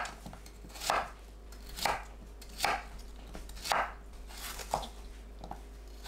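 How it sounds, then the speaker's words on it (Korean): Knife roughly chopping pear, onion, radish and chili peppers on a cutting board in a slow, uneven rhythm, about six distinct thwacks over a steady low hum, with no voices. "배, 양파, 무, 홍고추, 청양고추를 믹서에 갈기 좋은 크기로 대충 썰어줍니다."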